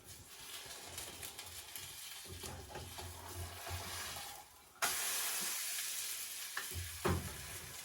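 Pancake batter made with zucchini sizzling and hissing in a hot pan, with a sudden louder burst of frying midway and soft scraping as it is spread with a spoon.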